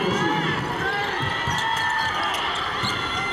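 Crowd applause at a college basketball game as seniors leave the court, a broad sustained roar of clapping and cheering with ball bounces, sneaker squeaks and talk mixed in.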